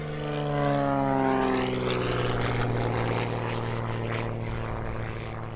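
An XA41 all carbon fibre aerobatic plane takes off at an aerobatics championship, its propeller engine giving a loud, steady, throaty roar with a strong droning hum that holds throughout, slowly shifting in pitch as it passes.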